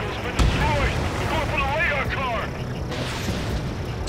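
A missile striking and destroying a target in the Ace Combat 7 flight game: a sharp blast followed by a sustained rumbling roar and whooshing, warbling game effects, with a voice speaking over the noise.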